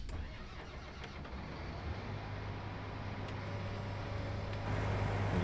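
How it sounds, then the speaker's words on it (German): Tractor engine in the Farming Simulator 19 video game, a low rumbling drone that builds slightly louder toward the end, heard alone without speech. "Nur mein Trecker."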